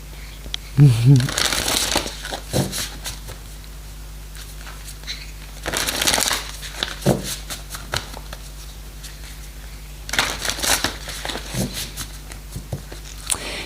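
Tarot cards being shuffled in bursts of crisp riffling and papery crinkling, heard in three separate clusters with quieter gaps and a brief voice between them.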